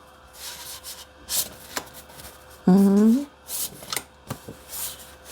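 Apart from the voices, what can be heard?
handling scrapbooking paper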